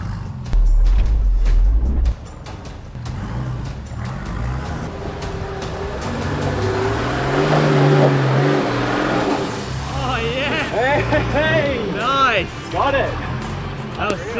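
A Nissan Patrol 4WD crawls over rocks at Tallarook with the engine held at raised revs by a hand throttle, a low, uneven rumble with bursts of effort, while people talk and exclaim throughout.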